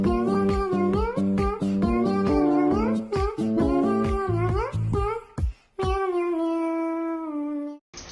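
A cat meows over and over in quick, insistent succession, loud and close, ending in one long drawn-out meow.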